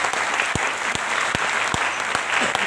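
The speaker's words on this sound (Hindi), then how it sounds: "एक बार जोरदार तालियां मेहमानों के लिए।" Enthusiastic applause from an audience at a business leaders' event, welcoming first-time guests, with dense clapping and a few sharp, regular louder claps punctuating the steady crowd sound.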